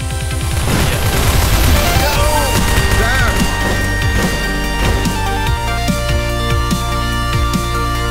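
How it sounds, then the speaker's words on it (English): Explosions and gunfire in the shooter Line of Fire, with an RPG-32, C4, anti-personnel mines and grenades, loud dense blasts and impacts layered over music throughout. "A variety of explosives have been added to Line of Fire, including the RPG-32, C4, anti-personnel mines,"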